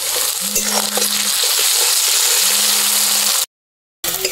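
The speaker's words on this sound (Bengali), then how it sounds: "টমেটো কুচিটাও ভাজা হয়ে গেছে" Chopped tomato fries in a pan with a strong, steady sizzle and occasional crackles; a faint low hum rises twice beneath it, and a brief silence interrupts near the end.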